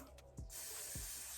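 A brief burst of hair spray hissing steadily from an aerosol can at close range, preceded by a couple of faint clicks from the can.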